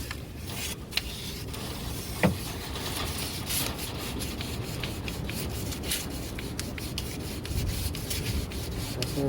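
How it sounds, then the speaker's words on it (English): Steady hand sanding of an engine valve cover with fine 1200 grit sandpaper, a continuous close rasping rub with light scratchy strokes, heard alone. "I'm gonna go get the sandpaper again and sand it down a little bit."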